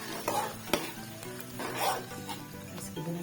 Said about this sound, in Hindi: यहाँ मैं इसमें डाल रही हूँ जो आलू और मटर इसमें शामिल कर रही